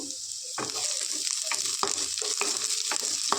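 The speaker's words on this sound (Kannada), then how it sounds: "ಇದೆಲ್ಲನೂ ಫ್ರೈ ಮಾಡ್ಕೋಬೇಕು" Cloves and spices frying in oil for a green chicken gravy, a steady close sizzle broken by repeated scraping stir strokes every half second or so.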